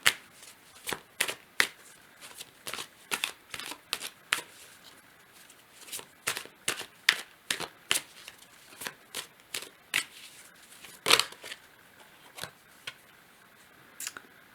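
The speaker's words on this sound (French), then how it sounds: "Je vais prendre une deuxième carte" Tarot cards being shuffled by hand, a long series of crisp, close riffling slaps and flicks in irregular bursts, fairly quiet with no talking over them.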